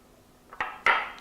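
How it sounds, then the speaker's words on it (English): Ginger snap crumbs and melted butter go into a bowl, heard as two close clinks and scrapes of kitchenware, the second louder and more drawn out, against a quiet room. "The first thing I'm going to do is put my ginger snaps in this bowl along with the melted butter"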